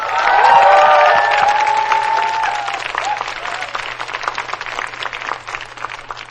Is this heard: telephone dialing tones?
no